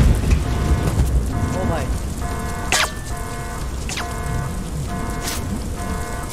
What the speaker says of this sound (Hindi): ऊपर छत पे बारिश गिर रहा है उसका आवाज़ आ रहा है